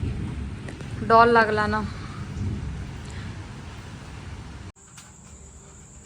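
Heavy rain and gusting wind from a thunderstorm in Rourkela make a steady, dense roar throughout, with a brief voice speaking over it near the start.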